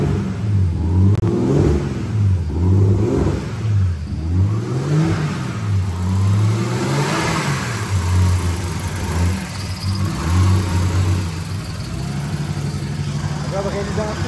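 A BMW E36 with a turbo engine swap revs repeatedly in a workshop, the engine rising and falling in a steady rhythm with a loud, close throaty note, while people talk over it.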